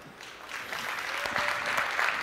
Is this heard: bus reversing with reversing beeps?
no